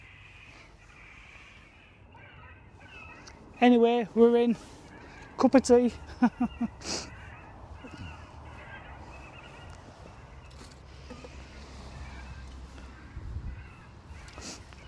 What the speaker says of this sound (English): Bloody seagulls.